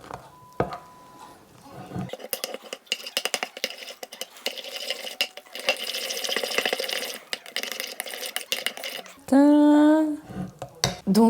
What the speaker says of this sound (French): Et ensuite on mélange.